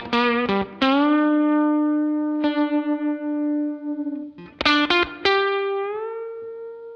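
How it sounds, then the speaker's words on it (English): Gritty twin boost guitar pedal tone with transistor headroom lowered, clean-ish but saturated; a few picked electric guitar notes and chords ring out with long sustain, a pause, then a second burst of strummed notes, close and loud. "It doesn't feel like an overdrive or a distortion, but it's still super gritty"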